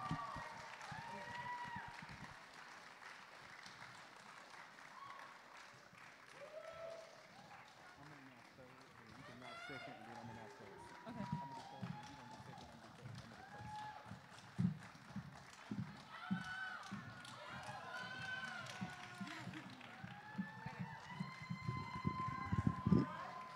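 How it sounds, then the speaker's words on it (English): Audience at a Catawba College talent show applauds and cheers the performers, a faint scattered clapping that swells louder toward the end, with voices and chatter mixed in. "I want y'all to give them a round of applause"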